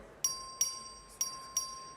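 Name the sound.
bell rung by the clerk for a record vote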